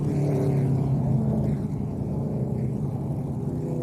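ARCA race cars roaring past on the banked oval at Iowa Speedway during a caution, a heavy, steady engine rumble that swells and then eases slightly as they go by.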